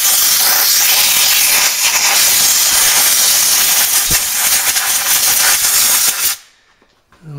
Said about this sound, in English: So take a little bit of compressed air and blow this out.